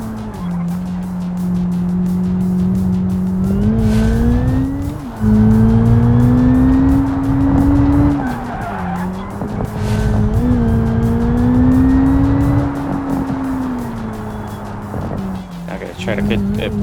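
A race car engine in the video game BeamNG drones steadily through a lap, its pitch rising and falling with throttle shifts, loud and continuous with a few brief tire and impact noises near the end.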